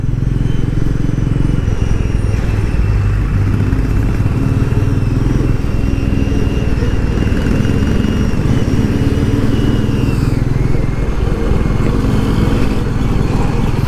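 A Royal Enfield Meteor 350 motorcycle rides through Delhi traffic, its steady single-cylinder engine drone loud and continuous throughout, mixed with road and wind noise and surrounding traffic.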